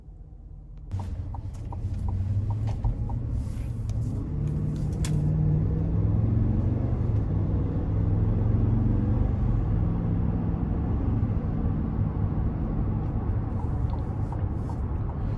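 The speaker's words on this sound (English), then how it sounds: "take this 2022 Escalade Luxury out on the road for a quick test drive" A 2022 Cadillac Escalade Luxury pulls onto the road for a test drive, its engine and tire rumble rising after a second and holding as a steady, low cabin drone.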